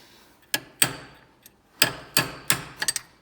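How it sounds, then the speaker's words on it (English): Sharp metallic hammer taps seating a clutch part on a Leyland 262 tractor, about eight strikes in irregular pairs and clusters, close and fairly loud with short silences between. "give a little wiggle and use a hammer on this one"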